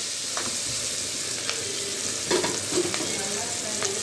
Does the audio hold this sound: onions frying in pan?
yes